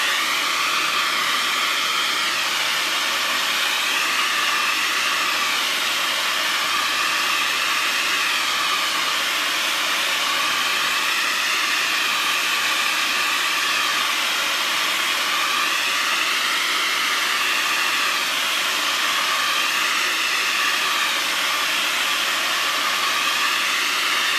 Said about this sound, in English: I am going to hit this with the blow dryer now.